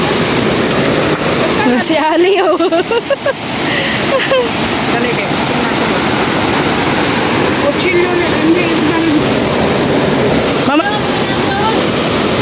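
Strong rushing water at an outing, a loud continuous roar that fills the scene, with several people talking and calling out over it.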